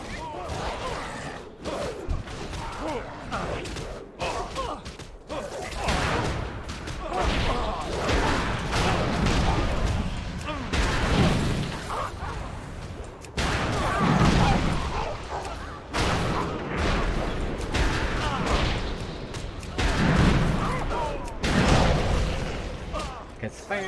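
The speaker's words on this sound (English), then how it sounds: "Because firing a cannon that close is a good thing." Cannon fire booms out in World of Warcraft: several heavy, close blasts and rumbling impacts spread through the scene, mixed with game effects while a voice talks over it.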